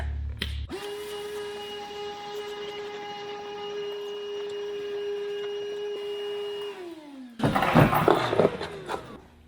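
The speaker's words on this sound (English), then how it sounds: "I figured I'd fire up this little vacuum and suck up some of the pine needles and dirt." A small vacuum motor whines steadily at a constant pitch, then winds down before a burst of rattling, crackling pine needles and dirt being sucked up.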